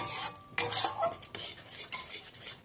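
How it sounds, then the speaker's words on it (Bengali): A spoon scrapes and stirs a thick spice paste mixed with ground peanut paste in a pan over low heat for a pointed gourd dish, in bursty strokes with a faint sizzle underneath and no talk. "তাই অনবরত এরকম নাড়াচাড়া দিয়ে মশলাটাকে কষিয়ে নিতে হবে।"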